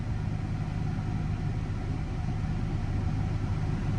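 A steady low car engine idle rumbles on without change, loud and close, with no talking over it; a possible timing belt fault.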